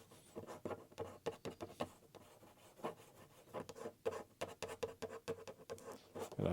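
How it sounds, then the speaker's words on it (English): A tool scores and scratches across watercolour paper to drag paint downward in a painting for miniature greeting cards, a quiet run of short rasping strokes in an uneven rhythm. "I'm going to drag some of that down by scoring that paper."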